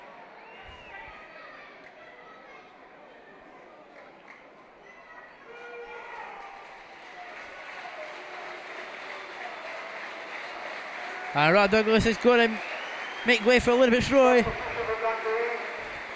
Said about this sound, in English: the cheers for Rod Douglas is phenomenal here at Dens Park